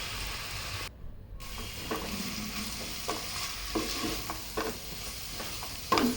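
A pan of vegetables with ginger and garlic paste sizzles steadily as it is stirred for a lentil fritter gravy, spoon scrapes coming in short repeated strokes, with a brief silent gap near the start.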